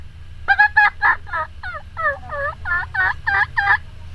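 A woman imitates a turkey, voicing a run of about a dozen quick, rhythmic clucks and yelps, close and clear against a quiet background.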